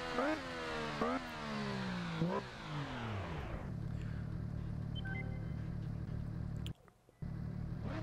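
An MV Agusta Rivale 800 three-cylinder motorcycle in a racing video game revs up in rising whines with quick gear shifts, then settles into a low idling burble, briefly cutting out near the end.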